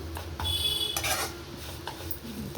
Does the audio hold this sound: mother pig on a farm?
no